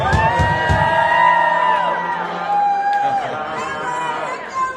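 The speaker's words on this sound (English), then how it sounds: "How about a nice round of applause for my wife," Audience cheering and whooping at a tribute band's set during the 55th annual IPA festival and convention, a loud crowd roar blended with sustained instrumental tones and a background of voices.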